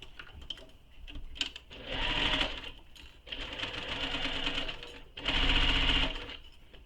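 A sewing machine stitches a zipper pocket onto a crossbody bag, its rapid mechanical whir running in near, loud bursts separated by brief pauses.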